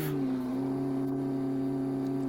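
A cold car engine idles steadily while warming up toward operating temperature, a constant low hum with a droning tone and no revving, close and alone.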